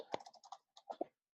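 Quick keystrokes on a computer keyboard, a short burst of about eight clicks, then a brief pause and two or three more taps, close and faint with no talking.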